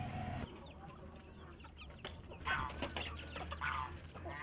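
Chickens cluck repeatedly on a small family farm on Con Dao island, Vietnam, where chickens and ducks are raised. The calls come in short bursts over steady low background noise, with no talking.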